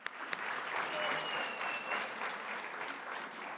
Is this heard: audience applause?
yes